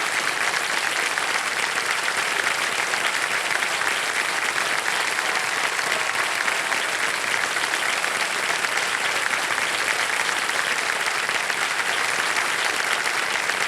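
Steady, dense applause from a studio audience at a televised quiz show fills the whole stretch, loud and even without breaks, no voices on top.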